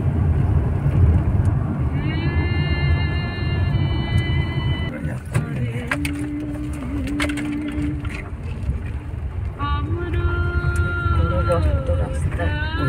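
A car drives up onto National Highway 12 on a road trip from Kolkata toward Nepal, engine and road rumble steady beneath passing horn blasts from other vehicles, with people talking inside the car.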